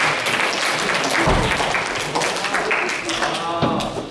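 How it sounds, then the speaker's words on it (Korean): A small church youth group gives a short round of applause to welcome someone up, clapping close by with voices talking alongside and a couple of thuds. "박수로 한번 모셔볼게요."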